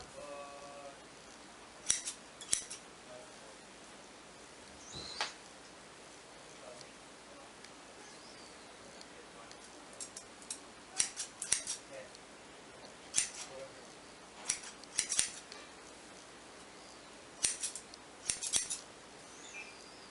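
Scissors snip hair during a home haircut on thinning hair, a series of short crisp cuts in small clusters with gaps, close and moderately quiet.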